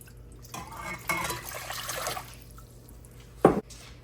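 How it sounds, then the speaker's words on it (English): Four cups of water splash and trickle steadily into a pot for a couple of seconds, then a single louder splash or clunk near the end. "4 cups of water into a pot."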